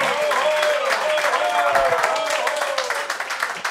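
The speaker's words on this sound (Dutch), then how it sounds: "Ik wil even het grootste applaus van vanavond voor Tilasmi." An audience applauding, a continuous close burst of clapping with some voices and cheers mixed in, tapering slightly toward the end.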